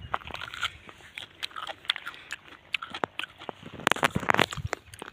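Jujube berries being eaten outdoors, with close, crisp crunching bites and chewing in irregular bursts that grow louder toward the end.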